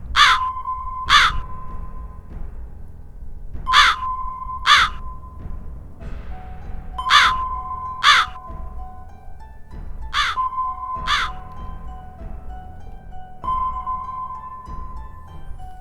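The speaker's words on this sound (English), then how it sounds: "the only sounds that could be heard being the sounds of the crows and the wind and the leaves they carried" Crows caw in a graveyard setting for an audio drama, giving paired harsh calls in four evenly spaced bursts over a low, steady background hum, fairly close and loud, with no voices.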